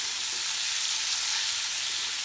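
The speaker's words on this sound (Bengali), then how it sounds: "যে এখানে ফুলকপিগুলি ভাজা করে নিচ্ছি।" Cauliflower florets fry in a pan, giving a steady, dense sizzle that holds at an even loudness throughout, close by and with no voices.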